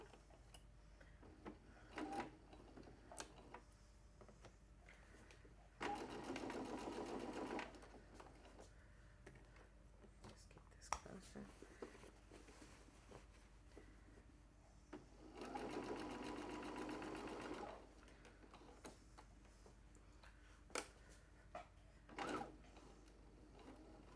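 Sewing machine stitching fabric for an expandable bag, two steady whirring bursts of a few seconds each separated by quieter handling clicks and rustles.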